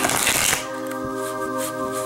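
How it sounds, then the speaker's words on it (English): Oracle cards being shuffled for a spirit guide reading: a brief burst of papery riffling up front, then it stops and steady tonal hum fills the rest, no talking. "So I'm just going to shuffle."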